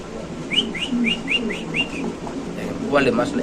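A white king pigeon makes a run of about six short, evenly spaced whistling calls, close and clear, followed by softer cooing and low murmurs against faint background noise.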